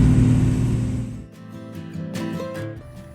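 Pickup truck engine rumbling while driving, a loud low drone that eases off partway, leaving quieter road and engine noise.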